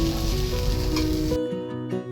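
Prawns with taro and potato sizzle loudly in hot oil and spices for curry, a dense close frying hiss that drops off sharply partway through.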